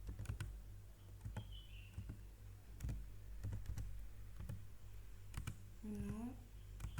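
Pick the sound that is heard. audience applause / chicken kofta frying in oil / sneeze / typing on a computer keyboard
typing on a computer keyboard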